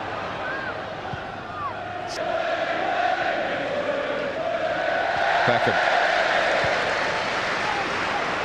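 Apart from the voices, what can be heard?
football stadium crowd cheering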